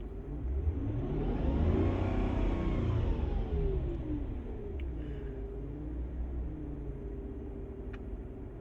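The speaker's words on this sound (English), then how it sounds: "I'm gonna try to rev the engine to see how that changes" A 2004 Mercedes E500 engine with lean codes P0171 and P0174 revs up loudly, its pitch climbing and then easing back into a steady, close rumbling drone.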